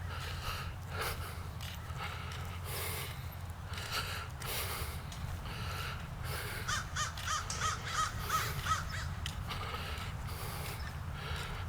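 Crows cawing in a California park over a steady low rumble of outdoor background noise, with a run of short rapid calls partway through, moderately distant.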